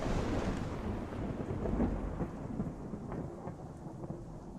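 A thunderstorm sound effect: a heavy, rolling rumble of thunder over steady rain, fairly quiet and continuous with no talk.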